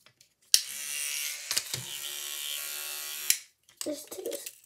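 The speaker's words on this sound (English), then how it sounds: "we got my toothbrush. It is very cool because it does not just have a supersonic thing" An electric sonic toothbrush runs in a bathroom, giving a steady high-pitched buzz for about three seconds that cuts off abruptly, with a short burst of handling noise after it.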